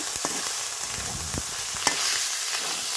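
Steady, loud sizzle of spiced fish frying in hot oil in a pan, with a few soft clacks of a spatula over the continuous hiss, no talking.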